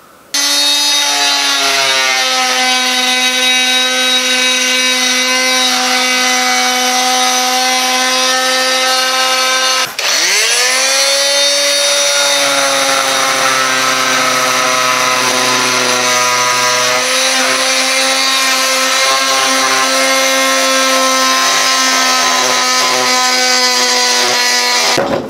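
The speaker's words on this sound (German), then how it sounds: "mit dem Vibrationsschleifer, mit einem Sägeaufsatz, wie man es zum Beispiel für Gips verwendet, das Ganze abzuschneiden." Oscillating multitool fitted with a plaster-type saw blade cutting through fiberglass (GFK) sheet, a loud sustained buzzing whine with strong harmonics, pitch dropping and recovering midway as the blade loads, continuous and close for the whole stretch.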